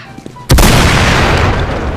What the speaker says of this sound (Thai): หยิบปืนขึ้นมาแล้วจัดการยิงถังระเบิดซะ